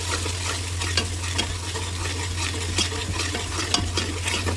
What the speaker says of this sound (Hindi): इसके साथ ही हम अपने मसाले डाल देंगे, सूखे मसाले। इनको 2 से 3 मिनट भून लेते हैं।